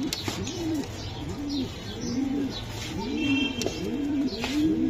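Club pigeons, some sitting on eggs, coo in repeated low, rolling phrases close by, one call after another in a steady rhythm, with a few faint chirps and no speech.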